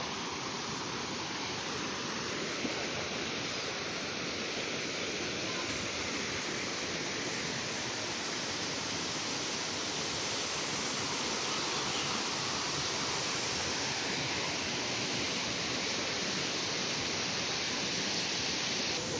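Rushing water at Serendah waterfall: a loud, continuous roar of cascading water, steady and unbroken from start to finish with no voices over it.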